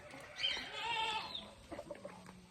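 A single goat on a farm lets out a drawn-out, wavering bleat nearby, followed by a few soft rustling sounds.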